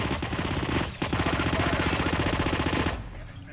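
An automatic weapon in the Hitman video game fires a long, rapid stream of shots with a brief pause near the start, loud and dense, then stops abruptly.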